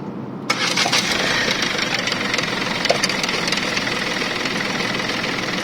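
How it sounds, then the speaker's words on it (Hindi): Mahindra KUV100 engine with damaged clutch plate springs starting up after a brief silence, then running steadily with a rough, vibrating knock, loud and close, with no talk. "इंजन ज़्यादा वाइब्रेशन कर रहा था।"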